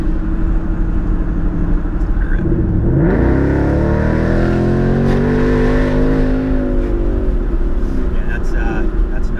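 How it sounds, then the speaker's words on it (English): A Ford Mustang GT S550 V8 with an AWE Zero Drone exhaust rumbles loudly from the cabin with the windows down, revving up into a deep swelling roar and then settling back, while people talk over it. "that really, really rich muscle car sound we were going for with Zero Drone"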